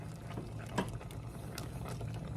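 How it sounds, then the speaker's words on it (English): Chocolate cherry preserves at a steady rolling boil in a pot, a continuous quiet bubbling and popping patter close by. "it is back up to a good boil"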